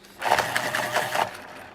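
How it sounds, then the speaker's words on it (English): A small handheld pencil sharpener shaves a 4B graphite pencil in one close, gritty burst of about a second, with a woody, scraping rasp. "Just a little pencil sharpener there, if you're wondering what that noise was."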